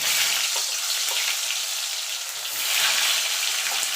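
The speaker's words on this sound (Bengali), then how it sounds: "এবার এই তেলে আলুগুলো আমি ভেজে নেব।" Potatoes frying in hot oil, a dense steady high hiss and crackle throughout, close and unbroken, with a slight dip then swell midway.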